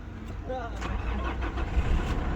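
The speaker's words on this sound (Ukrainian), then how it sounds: "заводимо. Так, авто працює" A 2013 Nissan Pathfinder engine cranking and catching on a newly made key, then settling into a steady idle, close and fairly loud, with someone talking over it.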